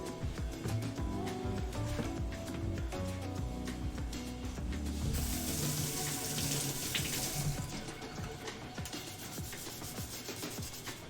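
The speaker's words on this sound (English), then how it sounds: "Give the knife a rinse off, give the board a clean up." Tap water runs steadily into a kitchen sink as a knife is rinsed, with a brief louder gush midway and faint rubbing and clinks underneath.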